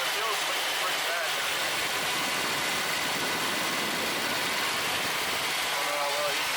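A 1966 Ford Mustang engine idles roughly with a steady low rumble and an uneven pulse, fairly loud and continuous, while a person talks over it.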